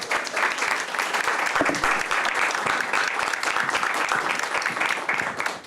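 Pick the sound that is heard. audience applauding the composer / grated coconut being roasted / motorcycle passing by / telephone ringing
audience applauding the composer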